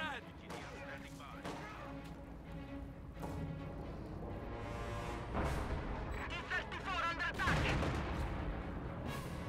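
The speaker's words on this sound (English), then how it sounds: "Katyusha barrage going off here, takes out that pack, destroying the gun completely." Katyusha rocket barrage in a WWII strategy video game, a run of booming launches and impacts building to a loud cluster, mixed with other battle gunfire and heard under a commentator's talk.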